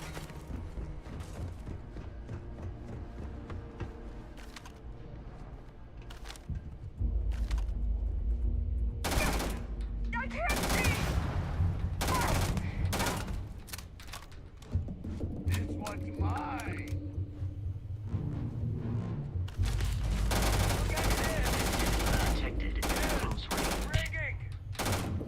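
Gunfire in Starfield, repeated bursts of rapid automatic shots and single cracks trading back and forth across a firefight, loud and close, with brief pauses between volleys and occasional voices.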